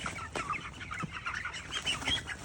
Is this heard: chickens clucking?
yes